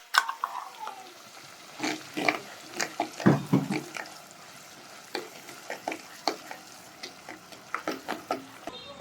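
Blended tomato and onion paste sizzles and fries in a pan for a broccoli curry, with repeated scraping and stirring strokes throughout, close and fairly loud, and no talking.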